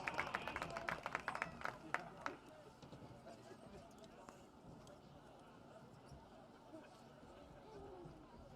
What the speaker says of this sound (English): Let's give them all one nice final round of applause.